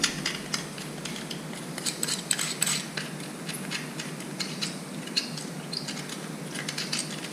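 Small metal scraping and ticking inside an old lawnmower's gas tank as rust and debris are worked loose, a quick irregular run of light scratches and clicks, close and fairly quiet, with no talking.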